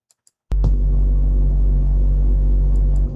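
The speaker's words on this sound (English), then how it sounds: "that sounds like this heavy magnet electric energy that's pushing you back from its forward" Space thruster brake effect for a video game, a heavy, loud, sustained low rumbling throb with electric buzz that starts abruptly after a couple of faint clicks and cuts off after about two and a half seconds.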